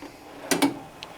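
Metal tool chest drawer holding wrenches being slid, two quick clacking knocks close together followed by a fainter click, sharp and near against a quiet room.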